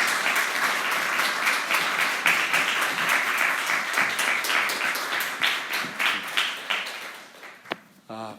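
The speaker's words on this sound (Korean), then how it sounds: "목사님 나오실 때 여러분 뜨거운 박수로 환영해 주시면 감사하겠습니다." Warm, sustained applause from a church congregation welcoming a pastor to the pulpit at a Sunday service, steady and full before thinning out near the end, with a voice briefly audible.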